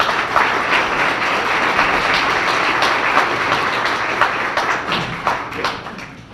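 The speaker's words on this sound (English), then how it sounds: "if you would please clap your hands" Guests at a chamber of commerce dinner clap their hands in a steady, fairly loud round of applause that fills the room, thinning slightly toward the end.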